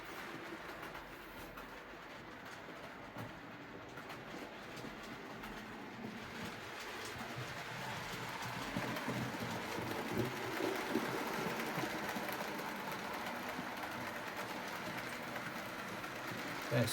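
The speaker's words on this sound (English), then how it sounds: "7013, Britannia, hauling the 15 Guinea special on the railway today." A model railway locomotive, 7013 Britannia, hauls a short rake of three coaches on a garden layout, giving a steady rolling rumble that swells gradually as it nears, with faint birdsong behind and no talk.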